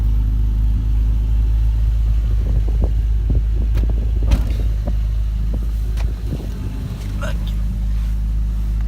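A Toyota Supra's engine and exhaust line drone low and steady while driving, heard from inside the car as a constant rumble with people talking over it.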